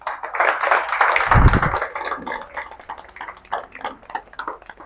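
An audience applauds to welcome Miss Ravita onto the stage at a rank celebration in Phoolpur Pindra, Varanasi, with a dense burst of clapping that thins into scattered, irregular claps.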